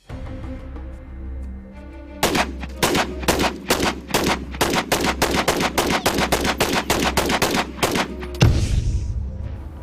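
Gunfire at an outdoor shooting range on open land, a fast string of loud sharp shots in quick succession over a low rumbling background. It ends with a heavier final blast.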